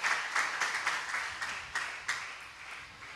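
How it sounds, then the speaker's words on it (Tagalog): JMCIM church congregation applauding God loudly, rhythmic group clapping that peaks early and gradually softens, with no voices. "Yan na ba yung pinakamalakas na palakpak para sa ating dakilang Diyos?"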